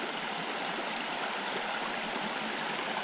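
A tiny mountain trout creek flowing steadily, a dense broadband rush of water close by that stays even and unbroken throughout, with no voices.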